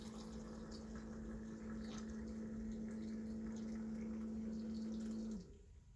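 Hot water poured steadily into a tea infuser while steeping Darjeeling first flush black tea, a close, even stream lasting about five seconds before cutting off into quiet.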